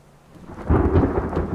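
A thunderstorm in the survival video game The Forest: quiet rain builds into a loud, deep thunder rumble that swells and rolls on while rain keeps falling, with no voices.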